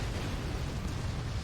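Nuke explosions in the airship combat game Fortships rumble as a dense, continuous low boom with steady crackling, loud and unbroken throughout.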